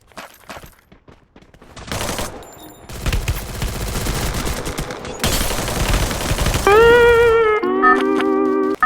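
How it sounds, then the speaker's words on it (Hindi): Sustained automatic gunfire from a P90 in a shooting video game, heard as dense, loud bursts of rapid shots, followed near the end by tonal in-game effects. "इसके लिए मैं उसको ऊपर P90 का स्प्रे देके उसको ख़त्म कर देता हूँ"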